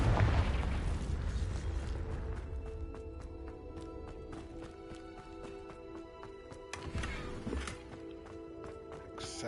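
A Confringo fire spell in Hogwarts Legacy bursts with a loud, low explosion at the start, then fades into a long rumbling tail with game sound effects and clicks following.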